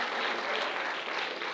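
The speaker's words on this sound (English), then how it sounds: "They deserve a bigger applause." Brief burst of steady audience applause at a school quiz contest, dense clapping from a crowd throughout.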